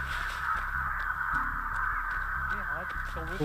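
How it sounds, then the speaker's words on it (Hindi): Crows caw repeatedly in a dead-tree woodland map of Dead by Daylight, harsh calls over a steady ambient drone, while someone talks over them. "कितने सारे कौवे"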